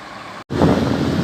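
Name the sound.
tourist bus on the road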